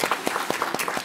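An audience at a European Commission side event breaks into brief applause, a quick run of evenly spaced claps filling a short, loud burst with no talk.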